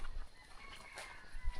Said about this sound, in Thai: ได้ยินเสียงมีเสียงไก่ป่าขัน